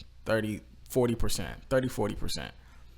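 Rapped vocal lines delivered in short bursts in FL Studio, with a washy reverb tail lingering after each phrase.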